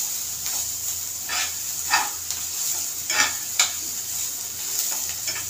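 Dried prawns roast in a little oil in a pan, with a steady sizzling hiss and occasional louder scrapes of a stirring utensil, close up with no talking.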